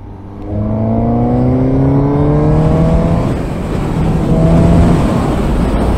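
A motorcycle accelerates along a country road, its engine note climbing loudly through rising gear sweeps, dropping briefly, then pulling strongly again, close and continuous with wind rush.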